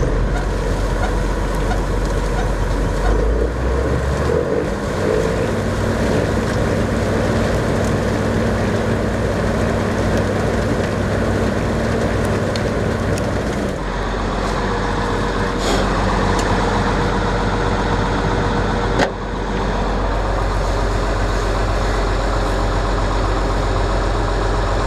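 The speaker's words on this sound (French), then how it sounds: "je vais remettre en route la moissonneuse" A combine harvester restarts during a sunflower harvest, its heavy diesel engine rising from a low rumble to a loud, steady roar with mechanical clatter. The engine note shifts partway through and again near the end.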